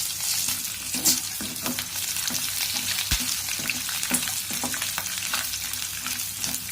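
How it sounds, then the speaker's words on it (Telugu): Ginger and green chilli pieces fry in hot oil in a pan for jackfruit curry, giving a steady, close, loud sizzle with occasional stirring scrapes and no talking. "కొద్దిగా వేగిన తర్వాత ఇందులో అల్లం ముక్కలు పచ్చిమిరపకాయ ముక్కలు వేసుకోవాలి"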